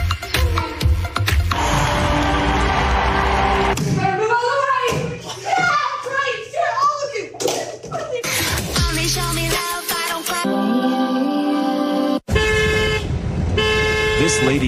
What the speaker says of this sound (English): Did you just honk at me?